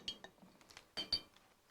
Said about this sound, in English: You mix that, and then you just stir it until that powder disappears.